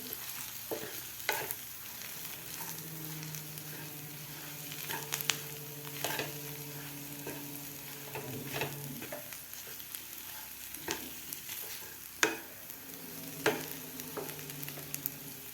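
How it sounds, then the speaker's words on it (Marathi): Potato bhaji with chopped coriander frying in a pan, a steady soft sizzle broken by repeated spatula scrapes and taps at an uneven pace, close by with no talking. "आता व्यवस्थित आपल्याला हे एक दोन मिनिट भाजी आपल्याला हे फ्राय करून घ्यायची आहे"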